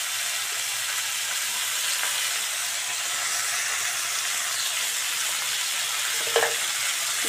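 Vegetables seasoned with turmeric and salt hiss and sizzle steadily in a frying pan, with a faint stirring scrape near the end.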